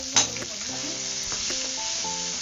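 Ground spice paste sizzles in a hot cumin tempering for potato curry, with a steady bright hiss throughout, one sharp spatter near the start, and scraping stirs under it.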